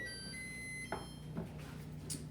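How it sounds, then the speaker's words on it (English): A faint, steady electronic oven beep holds for about a second and then stops, leaving a quiet kitchen hum with a couple of soft clicks. "You can hear the oven beeping"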